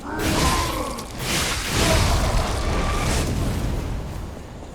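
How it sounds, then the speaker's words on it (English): Explosion in the video game Lies of P, a loud, broad rumbling blast with swelling whooshes that rise and fall across a few seconds, with no speech over it. "Our explosion, boys."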